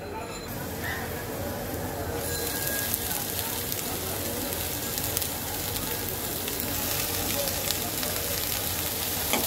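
Chopped, washed radish greens tipped into a pan of fried onion and garlic: a sudden jump into loud, dense, steady sizzling that continues throughout, with a voice speaking over it.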